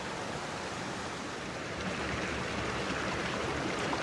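Water falls from the waterfalls at Kings Canyon near Carson City into a gated channel, making a steady, dense rushing hiss that holds constant throughout with no other sounds.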